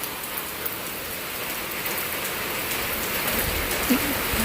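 Rain comes down outside on a windy day, a constant dense patter that swells slightly toward the end, with scattered drop impacts.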